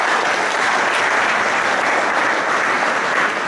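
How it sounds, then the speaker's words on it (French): Large audience applauding participants at a business gathering at Pavillon Dauphine in Paris, continuous dense clapping that stays loud and even throughout. "C'est ainsi que je demande de les applaudir chaleureusement."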